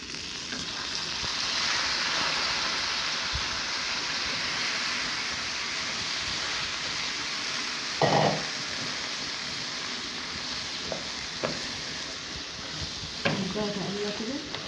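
Rice being stir-fried with browned vermicelli in a pan: a soft, steady sizzle with a few sharp scrapes and clinks of a spoon against the pan.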